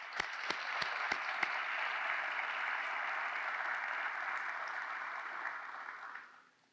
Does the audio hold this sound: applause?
yes